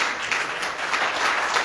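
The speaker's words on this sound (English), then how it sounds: "Let's give the Lord a hand clap of praise" A congregation claps hands in praise during a Baptism Sunday service at Marmora Baptist Church, dense overlapping applause from many people at a steady, moderately loud level throughout the short stretch.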